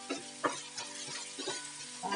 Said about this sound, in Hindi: दही और प्याज टमाटर अच्छे से भून चुके हैं।